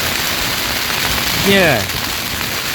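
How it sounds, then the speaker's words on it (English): Steady broadband hiss of rain falling on a wild camp on Corn Du in the Brecon Beacons, Wales, with a short spoken word partway through. "the rain started to come down"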